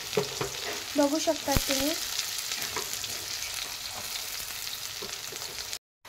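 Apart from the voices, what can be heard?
chopped onion frying and being stirred in a pan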